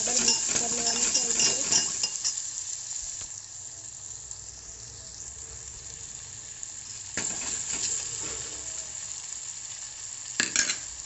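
Chopped tomato stirred into a hot tempering in a pan, with a soft steady sizzle, occasional scrapes and light clinks of a spoon, and a faint murmur of voice in the background.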